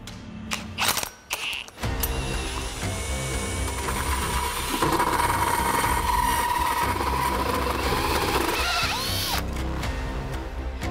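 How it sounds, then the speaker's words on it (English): A few sharp knocks, then a power drill whirs steadily for several seconds, its pitch rising and falling as it bites into the metal body of a brand-new truck before stopping. "drilling holes in the back of a truck, but especially a brand new truck"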